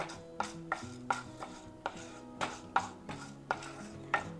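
Urad dal roasts in a pan for bajji chilli chutney, stirred with a spoon that taps and scrapes the pan in a regular rhythm of about two strokes a second, close and moderately loud, with no talking.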